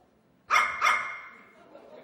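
A Basque shepherd dog lets out two sharp, loud barks in quick succession, close by, followed by a fading echo and quiet.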